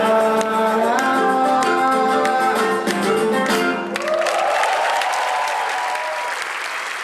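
Audience applause following a samba performance, clapping rising under lingering musical tones and then continuing as a broad wash of hands.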